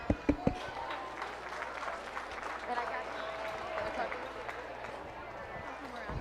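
An audience claps at a county fair junior showmanship event, steady applause filling the space at moderate level while voices carry over it and several sharp knocks come at the start.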